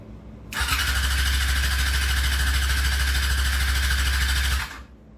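A Yamaha YZF R6 sport bike with a custom café racer build churns on its starter motor in one continuous, loud whirring crank lasting about four seconds, and the engine never fires before the noise cuts off.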